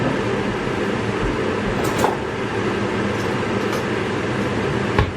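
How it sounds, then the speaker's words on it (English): A kitchen extractor fan runs over a gas stove as a steady broadband whoosh, constant and fairly close, with a couple of faint clicks and knocks on top. "we need the extractor fan, otherwise it's going to get too smoky"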